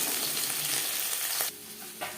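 Puti fish fry in oil in a kadai, a loud, dense sizzle crackling close up that suddenly drops to a quieter simmer partway through.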